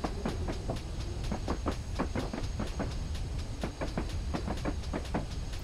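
A GWR Hall 4900 Class steam locomotive rumbles along the Falmouth branch line in Train Simulator, with a steady low roar and a fast, continuous clickety-clack of wheels over rail joints.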